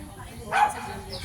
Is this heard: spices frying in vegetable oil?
no